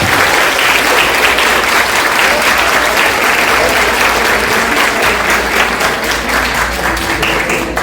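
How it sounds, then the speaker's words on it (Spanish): A large audience applauds steadily at the close of a talk on eclipses, a dense, loud wash of clapping that holds evenly for the whole stretch with no voices standing out. "Un fuerte aplauso, por favor."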